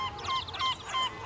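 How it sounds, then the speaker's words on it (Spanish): Yellow-legged gulls call in a colony on eroded granite cliffs of Sálvora island off Galicia, a series of harsh honking cries repeating in quick rhythm at moderate volume, with no talking. "Nutridas colonias de gaviotas patiamarillas se instalan hoy en los erosionados acantilados graníticos de Sálvora"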